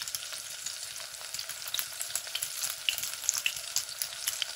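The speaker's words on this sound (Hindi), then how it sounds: "हल्की आंच पे आपने इनको पकने देना है इस तरह" Aloo gajar tikki fry on low heat in a pan, giving a soft, continuous sizzle with quick crackling pops throughout, fairly quiet and close, with no voices.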